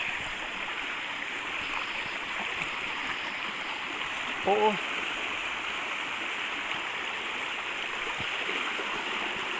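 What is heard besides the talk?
flowing stream water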